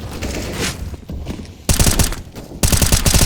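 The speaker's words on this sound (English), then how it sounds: "Ivar responds in time with his own bullets." Rapid bursts of gunfire in a competitive first-person shooter esports grand final, two loud volleys of automatic fire trading back and forth after a quieter stretch of game ambience.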